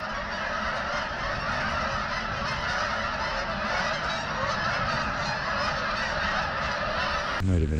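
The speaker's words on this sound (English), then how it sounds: "What is this, goose again?" Geese honk continuously in a dense, overlapping chorus outdoors by a snowy trout-fishing spot in freezing weather, loud and steady throughout.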